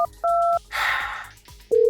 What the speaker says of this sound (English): Kat wants me to call Duckula to ask if he ever craves blood.